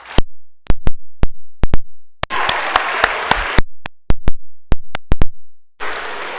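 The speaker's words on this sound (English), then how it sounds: "So a big round of applause to all those people I mentioned" Bursts of crowd applause fill a school athletic assembly at Stanstead College, with loud hand claps breaking off, resuming, and punctuated by sharp isolated thumps in between.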